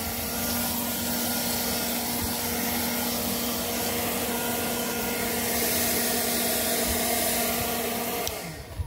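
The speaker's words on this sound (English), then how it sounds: "the blower will run for about half the time on the lower setting as it does on the high." A cordless electric leaf blower on its low setting gives a steady close whirring hum with an even airy rush, running alone for several seconds before cutting off near the end.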